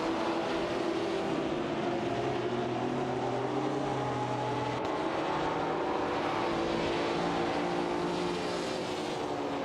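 Several race car engines drone in a racing video game with AI-driven cars, a continuous layered roar with rising and falling pitches as the cars run together, steady and unbroken.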